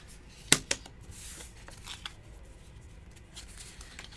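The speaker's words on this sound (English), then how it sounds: "And we're going to shuffle and draw." A deck of cards shuffled during a solo tabletop card game, heard as two quick, quiet snaps close together near the start, then low room hush.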